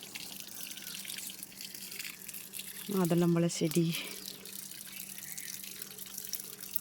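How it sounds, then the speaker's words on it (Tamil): Water is poured onto garden plants in a morning home garden, a splashing, trickling burst around the middle under a steady background hum, with a person speaking briefly. "காலைல எங்கள் பாப்பா தண்ணி ஊற்றுறா."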